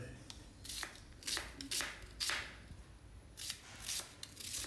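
Ginger pieces being chopped with a knife on a board, quiet irregular bursts of crisp cutting strokes in quick clusters, close and faint, with a hint of speech underneath.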